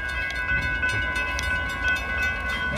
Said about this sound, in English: For now, this train is just chilling.